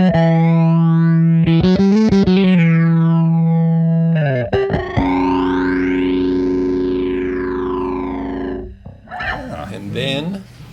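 A bass guitar runs through an Aftershock distortion pedal on its heavy setting, with drive around 75% and level around 65%. Loud, gritty notes sustain and bend with swooping pitch slides, then break into choppy bursts near the end.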